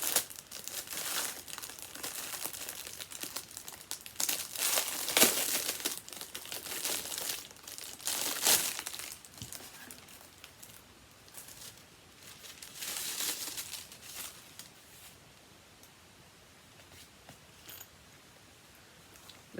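Crinkly plastic packaging rustles and crackles in bursts from a Frogwarts Year 4 unboxing, handled close up with no voices over it.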